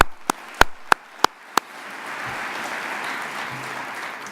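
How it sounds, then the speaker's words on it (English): A faculty and staff audience at a college spring opening meeting claps after a few loud separate claps, the applause swelling into a broad, steady wash that holds to the end. "So faculty and staff, a round of applause for you."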